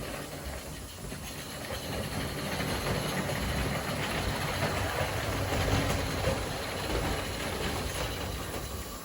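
A 1:19 scale Roundhouse live steam model locomotive runs on postwar O gauge track, giving a continuous close hiss of steam over a rolling, clattering wheel rumble that holds steady throughout.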